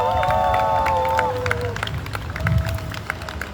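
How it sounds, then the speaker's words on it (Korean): A crowd at an outdoor campaign rally claps and cheers, a brief burst of applause that fades under amplified music tones and background bustle. "다들 박수 부탁드립니다."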